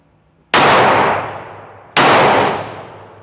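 Two loud, close Glock 31 Gen4 pistol shots at a shooting range, about a second and a half apart, each a sharp crack with a ringing decay.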